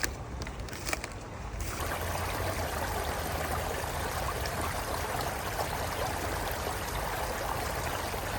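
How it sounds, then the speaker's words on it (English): A winter alpine river flows steadily, a continuous broad rushing wash of water heard close by. A brief muffled rustle comes at the start before the flow settles into an even roar. "Just gone down to the river, fill our flask up with water so we can have a nice drink tonight."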